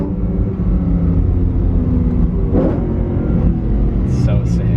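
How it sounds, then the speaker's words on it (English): A BMW E92 M3 with a carbon fiber plenum produces deep intake induction noise, a loud steady rumble from inside the car, with a few brief higher tones near the end. "I never thought I'd want induction noise over exhaust noise, and I'm hooked."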